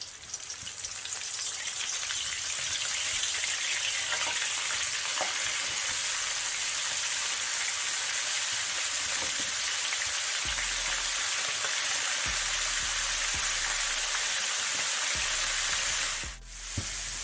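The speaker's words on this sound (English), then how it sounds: "just lightly coat them and drop them in the oil to fry" Lightly coated chicken wings fry in hot oil with a steady, dense sizzle and crackle, close by and fairly soft, with faint clinks and a brief knock near the end.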